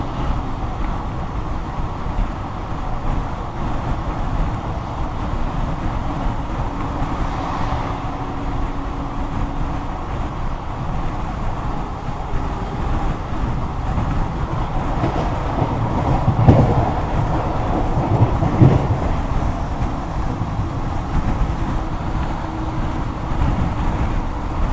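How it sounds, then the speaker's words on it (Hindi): Passenger train running at 100 km/h on a dedicated freight corridor, a steady loud rumble and roar of the carriages with faint rhythmic rail clatter throughout. "अपनी ट्रेन फ्लैट 100 की रफ्तार में चल रही है"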